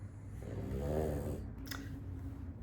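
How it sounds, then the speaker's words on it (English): Snoring from a napping sleeper in a quiet room: one slow, drawn-out inhaled snore rises and fades, close and moderately loud, with no talking. "The snoring again."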